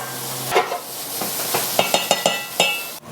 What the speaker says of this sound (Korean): 먼저 녹색 달래부터 볶아줄게요